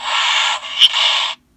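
A short electronic hiss sounds from a toy cat, a harsh breathy burst lasting just over a second with a brief dip midway, then cuts to silence.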